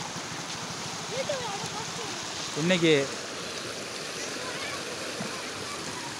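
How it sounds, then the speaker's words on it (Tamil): A swollen river after heavy overnight rain rushes past in a steady broad roar near Inamkulathur, Tamil Nadu, while someone speaks briefly over the flowing water. "இதான் நம்ம ஆத்தாங்கிற ஆற்றுல தண்ணி போகிறத பாருங்க."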